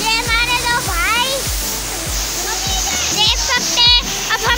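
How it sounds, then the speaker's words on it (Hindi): A high-pressure waterfall near Muzaffarabad, Kashmir, roars as a constant broad rush of falling water beneath lively voices of people and children talking and calling out nearby. "ये वो है झरना पानी दिखता है ऊपर से बहुत प्रेशर पे"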